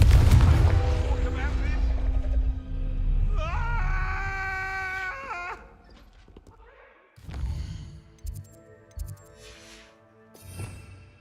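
The Confringo fire spell from Hogwarts Legacy goes off as a heavy booming blast with a rumbling crackle, then fades into quieter magical tones and a few sharp hits. A voice speaks over the first part.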